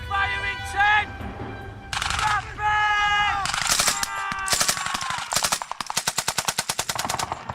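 Rapid machine gun fire hammers out in a Vietnam battle scene. It builds from mixed shots and noise into a fast, steady stream of loud, close bursts, with voices shouting over the din.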